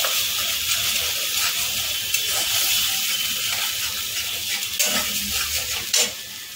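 Spice masala fries in a pan for a jackfruit curry, making a loud, continuous hiss. A few faint stirring knocks sound near the end.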